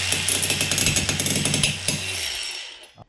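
An angle grinder cuts a steel pipe, close and loud, with a rapid rattling, grinding buzz that holds for about two seconds before winding down to silence.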